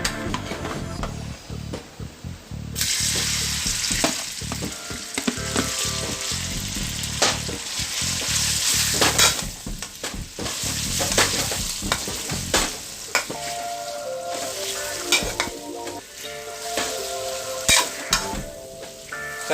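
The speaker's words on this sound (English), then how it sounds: "once I see that the oil is nicely heated, I'm going to add my beef to it." Beef dropped into hot oil for a stir-fry with bitter melon and black bean sauce, a loud burst of sizzling followed by continuous crackling frying and repeated scrapes and clacks of stirring.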